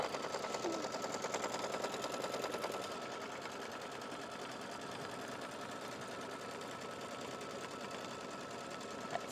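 A sewing machine stitches through fabric and batting in a continuous close whirring run, slightly louder at first and then settling into a steady, even hum with rapid needle ticks.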